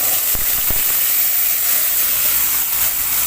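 Steady, dense sizzling and hiss of tomato puree boiling in a hot pan, continuous throughout with a couple of faint clicks early on.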